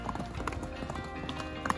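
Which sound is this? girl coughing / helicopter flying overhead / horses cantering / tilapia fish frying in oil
horses cantering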